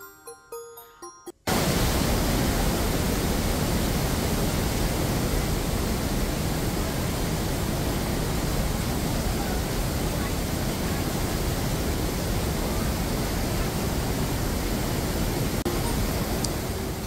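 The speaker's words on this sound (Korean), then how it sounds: "거대한 물줄기와 함께 걷는 브라질 이가수 폭포를 보는데 어떠셨나요?" Iguazu Falls in Brazil roars as a massive, steady wall of broadband water noise, loud and continuous after a brief quieter moment at the start.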